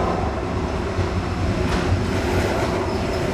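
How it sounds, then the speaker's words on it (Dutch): Rumbling BLS locomotive in a train simulation rolling along the track toward a holding siding, a steady low mechanical roar with rhythmic wheel clatter, fairly close and continuous. "De lok rijdt richting het wachtspoor."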